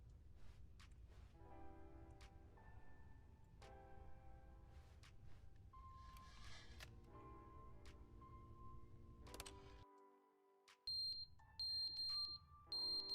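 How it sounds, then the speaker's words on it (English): Electronic smoke alarm beeps chirp repeatedly near the end of a stretch of layered game music and tones in the video game The Stanley Parable, high and bright. "We have to change the smoke alarm."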